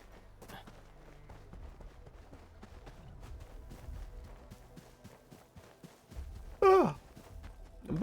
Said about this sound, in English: Big ol' yawn.